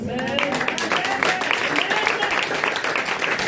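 A church congregation claps and cheers in acclamation of Jesus, a dense, steady wash of applause with voices rising over it throughout.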